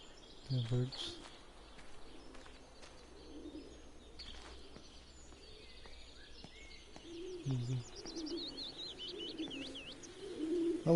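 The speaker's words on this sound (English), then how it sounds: "Birds." Pigeons coo in low, soft bursts amid a quiet birdsong ambience of chirps and tweets in the video game Everybody's Gone to the Rapture, with a few brief wing flaps and some faint speech.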